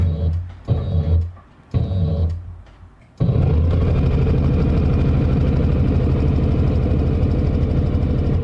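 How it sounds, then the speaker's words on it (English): A home sewing machine runs a standard straight stitch, starting with short stop-and-go bursts before settling into a steady, close, continuous mechanical hum. No one speaks. "I'm going to press the pedal down and just sew a standard straight stitch"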